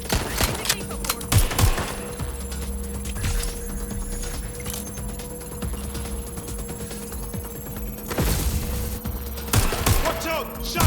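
Gunfire in the video game Watch Dogs: Legion cracks out in loud, rapid bursts and scattered single shots, spread across the scene with gaps between volleys.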